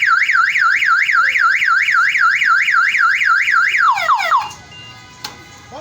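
An electric fence alarm siren sounds loud and close, a rapid rising-and-falling warble repeated steadily for about four seconds before winding down and stopping.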